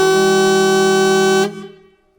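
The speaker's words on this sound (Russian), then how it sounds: "Звуковой сигнал." A Scania R560 V8 truck's horn blasts in one steady, loud tonal honk lasting about a second and a half, then cuts off and fades into quiet.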